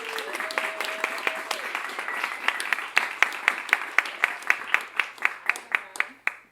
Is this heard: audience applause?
yes